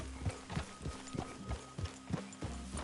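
Horse hooves clip-clop at a steady walking pace in the Red Dead Redemption 2 video game, about ten regular thuds over a low background hum, fairly close and moderately loud, with no talking.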